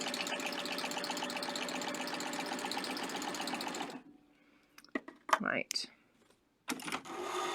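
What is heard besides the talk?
serger sewing machine stitching fabric for gathers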